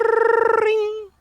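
A voice mimics a payphone ringing beside an arcade: a rapid trilling burst that settles into one sustained tone, then cuts off.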